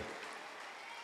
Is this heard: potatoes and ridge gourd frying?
no